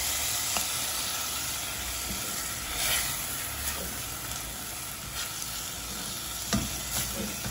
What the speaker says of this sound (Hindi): चिकन फ्राई हो गई है सारी